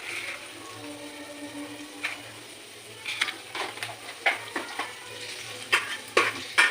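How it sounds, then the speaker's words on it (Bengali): Dry red chilli, bay leaf and cumin seeds temper in hot oil in a pan, giving a soft continuous sizzle broken by sharp pops, crackles and light utensil clinks that grow more frequent toward the end. "এর মধ্যে আমি দেবো শুকনো লঙ্কা ফোড়ন তেজপাতা ফোড়ন দুটো ছোটো এলাচ আমি ফাটিয়ে দিয়েছি একটুখানি জিরে ফোড়ন দেবো"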